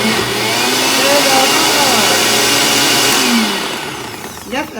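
A blender making a chocolate shake drones in a loud, steady motorized whir for several seconds with a slight shifting pitch, then winds down and trails off near the end.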